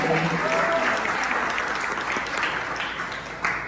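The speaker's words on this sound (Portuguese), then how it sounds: "Vamos aplaudir esses irmãos." A church congregation applauds long-standing members, dense sustained clapping from a large room filling the whole stretch, with a brief voice rising over it near the start.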